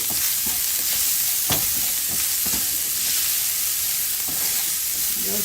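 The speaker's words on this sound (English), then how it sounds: "Just going to add onions and garlic." Onions and garlic frying in olive oil in a pan, a loud, continuous close sizzle with occasional stirring scrapes.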